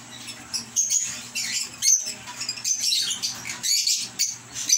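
Small pet birds feed on moringa (malunggay) leaves nearby, giving busy high-pitched chirps and scratchy rustling and pecking sounds that run steadily without any talking.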